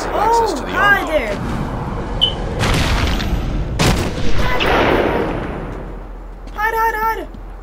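Sniper gunfire in the Batman Arkham Asylum video game: several sharp, booming shots a few seconds apart, loud and close, with someone talking and exclaiming between and over them.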